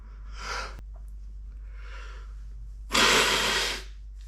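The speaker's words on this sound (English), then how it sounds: "I'm gonna sneeze." A person sneezes into a handkerchief, with a couple of soft breathy inhales first and then one sharp, loud burst of a sneeze near the end, all close and otherwise quiet.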